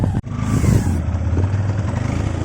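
A motorcycle engine with a recurring fault runs on a mountain road near Lachung in North Sikkim, a steady low rumble that holds on throughout with a brief drop near the start and some rattling, no talk.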